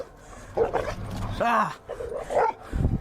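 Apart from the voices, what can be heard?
aggressive dogs barking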